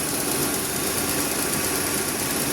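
Steady idle of a car engine with its aircon turned off, an even, nearby rumbling drone without pauses or voices.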